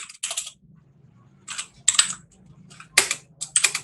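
Code is typed on a computer keyboard while building a Node.js Express image-upload server. Short clustered bursts of close, crisp keystrokes are separated by brief pauses.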